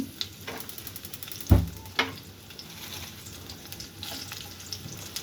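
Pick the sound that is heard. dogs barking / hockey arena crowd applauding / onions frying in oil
onions frying in oil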